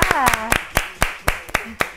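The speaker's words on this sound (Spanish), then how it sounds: "Aplauso, por favor." Scattered hand claps from a small studio audience on a talk show, about a dozen sharp separate claps over two seconds, with a voice speaking over the start.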